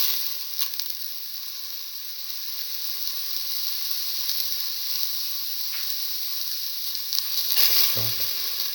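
Ginger sizzles steadily as it is stir-fried in a pan, a constant bright frying hiss with occasional stirring clatter, close and fairly loud, no talking.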